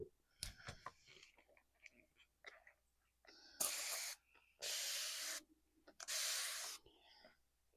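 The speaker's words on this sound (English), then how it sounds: "I'm going to get it wet. I got a spray bottle right here." A handheld spray bottle mists water onto a silicone doll in three distinct hissing bursts, each close and lasting under a second. Faint rustling, handling noises and soft breaths come before them.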